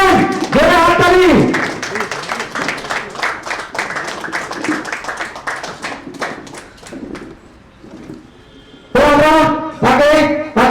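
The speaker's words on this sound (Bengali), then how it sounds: "ভেরি ব্রিলিয়েন্ট, জোরে হাততালি।" An audience at a marketing company's creators-group gathering claps in a scattered, uneven burst of sharp hand claps, framed by someone speaking loudly into a microphone before and after.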